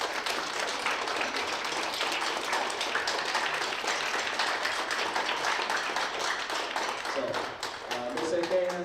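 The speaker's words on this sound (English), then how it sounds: "I want these kids to give your parents a round of applause for their support." Parents and families clap through a fifth-grade school band concert, a full, steady round of applause from an indoor audience lasting several seconds without letting up.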